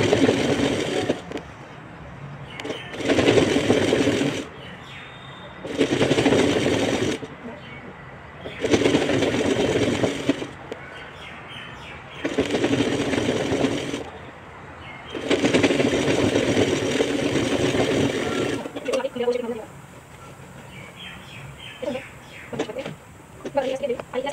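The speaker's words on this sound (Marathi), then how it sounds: "पुन्हा आता हे बॉटम आपल्याला जोडून घ्यायचं बघा असं, आणि एक टीप मारून घ्यायची पुन्हा" A sewing machine joins the bottom piece of a garment, its stitching coming in repeated loud bursts of a few seconds each, separated by short pauses, close by, with someone talking over and between the runs.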